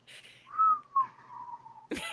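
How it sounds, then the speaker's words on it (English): Someone whistles a short tune, a couple of bright sustained notes sliding down in pitch over about two seconds, close and clear, followed by a brief burst of speech at the end. "Please don't whistle."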